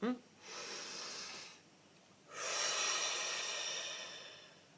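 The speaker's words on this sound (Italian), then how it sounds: "facciamo un bel respiro profondo" A woman takes a deep breath: a long airy inhale, a short pause, then a longer hissing exhale, both soft and close.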